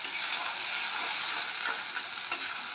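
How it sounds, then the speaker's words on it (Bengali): Onion paste frying in a pan until reddish, a dense steady sizzle with light scraping and one brief clink near the end. "পেঁয়াজের পেস্টটাকে আমি লাল করে ভেজে নেব।"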